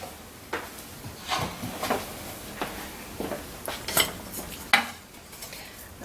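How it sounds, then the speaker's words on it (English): Spoon scraping and clinking against a pan while cheese sauce (Mornay) is stirred on low heat, several soft intermittent strokes and taps, close and fairly quiet, with no talking. "I just want to stir this in for a second or two"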